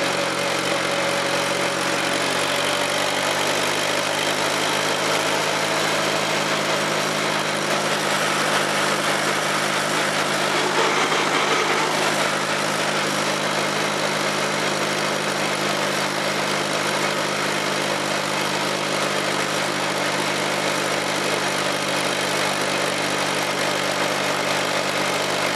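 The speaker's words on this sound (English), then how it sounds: "will your tractor run that low RPMs and keep right on puttering along?" An Allis tractor engine idles at low RPM, a steady, even puttering drone that holds close and constant for the whole stretch with no talk over it.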